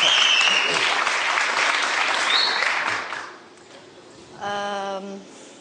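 An audience applauds a singer on a TV talent show with loud, dense clapping for about three seconds. It then fades out and a short sustained musical tone follows.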